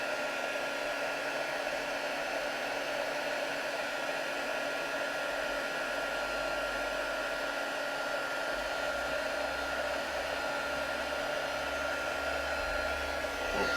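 A heat tool used in card making blows a steady, even whoosh while melting material, droning close and constant with no speech over it.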